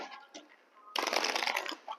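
Oracle cards shuffled in the hands during a mirror-oracle card reading, a brief quiet riffle followed by a louder, dense second of rapid papery flicking close up, with no talk.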